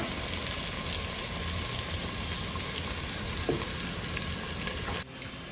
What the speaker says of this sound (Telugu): ఉల్లిపాయలు కూడా వేగాలండి బాగా.